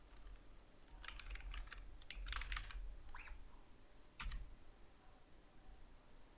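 Computer keyboard typing a name, bursts of quick, crisp key clicks in short clusters with pauses, close and fairly quiet, with a final isolated keystroke.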